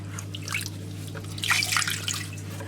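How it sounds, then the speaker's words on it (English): Water squeezed out of a sponge drips and trickles into a toilet bowl from above the flush valve opening, a run of soft, close splashes over a steady low hum. "If we put the sponge into the water to soak up the water and then squeeze it over where the flush valve goes, it'll go directly into the toilet bowl."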